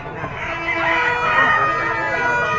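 A young gamecock stag at a Padre Garcia, Batangas poultry market crows once in a long, loud, close drawn-out call.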